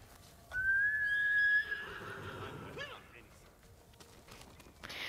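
A horse in the video game Ghost of Tsushima lets out a loud, high, wavering whinny that trails off into lower snorting, with faint hoof clops and a voice in the background.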